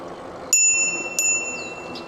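A bicycle bell on an e-bike rung twice on a forest preserve trail, two bright metallic rings about half a second apart, each ringing on briefly, close and clear over quiet outdoor background.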